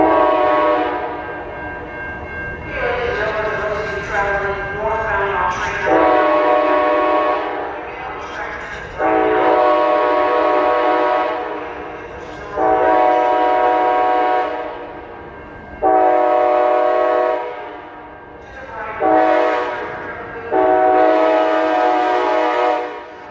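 A passenger train, a Talgo on the Seattle to Portland run, pulls into a station with repeated loud horn blasts and a sustained rumble, its horn sounding in separate bursts every few seconds.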